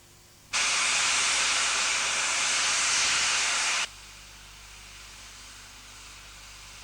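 Steam locomotive boiler during a steaming test on the Keighley and Worth Valley Railway, with a loud, steady broadband hiss that starts abruptly, holds for about three seconds and cuts off, leaving quieter background noise.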